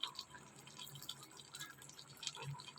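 A small splash of water poured into a cooking pot of curry with eggs, soft trickling and dripping at low volume, with a few light clinks.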